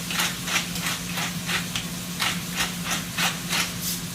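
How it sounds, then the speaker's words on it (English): A small hand pepper grinder turns in a kitchen while a pot steams, giving a run of regular dry scraping crunches, about two per second, over a steady low hum. "I just grind some pepper right here in this little thing."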